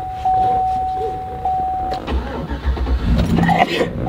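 A 2005 Chevrolet Silverado cateye pickup's engine cranks and catches with a loud rough rumble that settles into an idle, preceded by a steady electronic chime.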